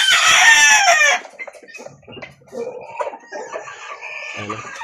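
A fresh March batch of chicks and chickens let loose indoors: a loud, close burst of clucking and crowing, then softer scattered clucks and cheeps with some low background sounds.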